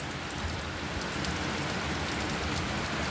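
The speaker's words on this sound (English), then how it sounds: "It's a rainy day." Steady rain falls on an outdoor surface, a dense, even hiss of countless drops with no pauses or other sounds.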